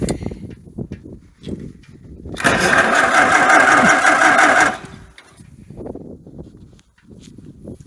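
A Farmall H tractor engine cranks and catches, a loud burst of rough running lasting a couple of seconds between quieter handling noises and footsteps before and after.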